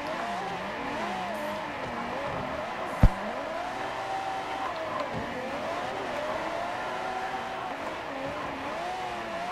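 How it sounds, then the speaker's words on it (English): A car slides with the e-brake pulled, its tires skidding in a long steady drone of engine and tire noise with wavering pitch, one sharp knock near the three-second mark, no talk. "I'm just grabbing the e-brake. And it'll let me slide for a little bit, and then it just kind of dies out."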